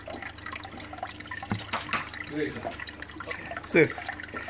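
Water gurgling and splashing as the bell siphon in a small aquaponic system starts, with drips and uneven trickling bursts heard close under occasional faint talk.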